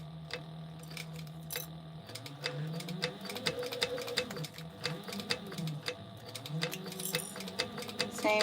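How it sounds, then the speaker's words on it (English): Sewing machine stitching a short back stitch at the start of a seam on a fabric pouch, a quiet rapid mechanical ticking and whirring with a motor hum that shifts pitch as the needle reverses and continues. "I'm going to do just one back stitch to get myself started here"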